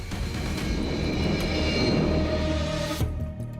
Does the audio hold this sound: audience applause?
no